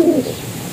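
A single soft coo from a breeding pigeon, low and close, fading quickly into quiet background.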